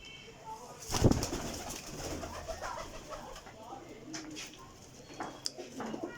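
Soft cooing of flying pigeons close by, with a brief flutter or thump near the start and faint background voices.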